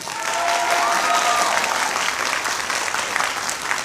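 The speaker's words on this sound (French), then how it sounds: "d'applaudissements, s'il vous plaît, pour Caral." Loud, sustained applause and cheering from an audience at a gaming convention stage show, a continuous wash of clapping for the whole stretch.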